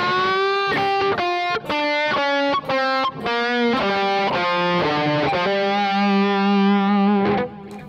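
A distorted electric guitar plays a lead phrase of bent and sustained notes with effects, loud and alone, ending on a long held note.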